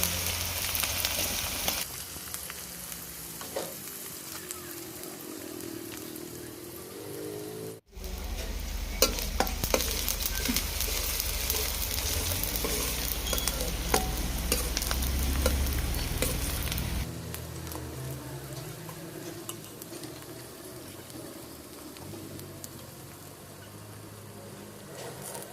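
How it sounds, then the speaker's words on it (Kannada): Chopped onion and broken chili frying in oil in a pan for fish sambar, a steady close crackling sizzle with spoon stirring, louder in the middle stretch and easing toward the end, no voices. "2 ಈರುಳ್ಳಿ ಕಟ್ ಮಾಡ್ಕೊಂಡಿರೋದಂಥದ್ದು ಹಾಕೋಣ. ಇದನ್ನು ಫ್ರೈ ಮಾಡ್ಕೊಳ್ಳೋಣ."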